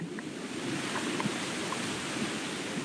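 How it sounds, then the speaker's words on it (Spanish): Falling water like a waterfall gives a steady, even roar of broadband rushing noise that holds at the same level throughout, with no voices. "El sonido de las caídas de agua, como las cascadas"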